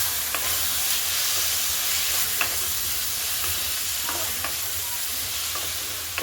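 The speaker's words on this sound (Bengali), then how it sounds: "ভালো করে একটু মাখিয়ে নেবেন মশলার সাথে।" Potatoes tossed with ground coriander and turmeric in a hot frying pan give a steady close sizzle and hiss, with soft stirring scrapes now and then and no talk.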